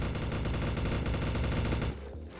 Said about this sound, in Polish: Marszałek we mnie strzela